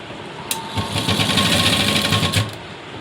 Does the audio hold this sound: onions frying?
no